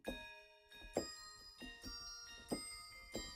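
Layered bell tones combining a DX-style synth with BBC sampled bells, five ringing strikes at a steady pace, each with a sharp attack and long shimmering harmonic decay, clean and alone.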